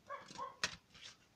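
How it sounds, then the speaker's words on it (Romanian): A puppy whimpers and yips in short, faint, high whines with a sharper yelp in the middle, heard alone and fairly close. "Cățelușul meu cred că s-a plictisit."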